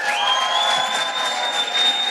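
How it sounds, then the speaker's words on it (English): At an awards event in a grand hotel venue, a crowd claps and cheers on cue, a loud, dense and sustained wash of applause with whoops running for the full two seconds. "So just a round of applause and a cheer."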